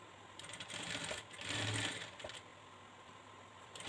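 A sewing machine stitches a blouse in a tailoring job, giving a soft, steady mechanical whir that swells louder for a moment midway before settling back to a faint hum, with no voices.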